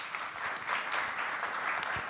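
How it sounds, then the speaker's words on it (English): A modest audience claps for presenters at a chamber of commerce forum on a highway interchange update; brief, fairly quiet, steady patter of many hands. "let's give them a round of applause"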